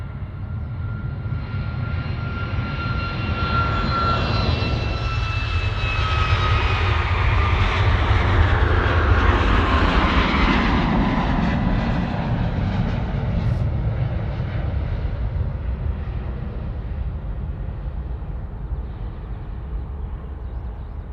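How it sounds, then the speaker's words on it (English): A Fiji Airways jet departs Sydney Airport, its engines a broad, sustained roar that swells and slowly fades over about twenty seconds, heard from a distance with no talking. "check out our Fiji Airways coming out to play"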